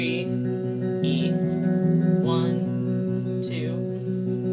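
Electric guitar plays the intro of a worship song: sustained, ringing chords shift a few times, up close and alone, with light pick and string noise.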